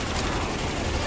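Dense, continuous gunfire fills a custom map in Left 4 Dead 2, the rapid shots blurring into one loud, steady roar with no pauses.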